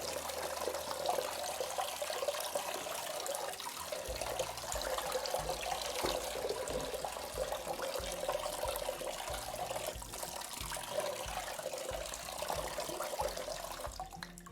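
Warm water runs and splashes as eco-printed felt is rinsed under a tap, a soft continuous pouring and trickling at low volume with no talking.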